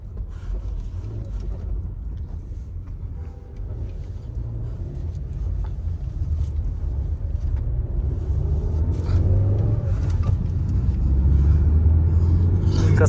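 Modified Maruti Baleno cars at a gang meet-up in Pune roll past in a steady low engine rumble, swelling louder toward the end as the vehicles draw nearer, with no talk over the traffic.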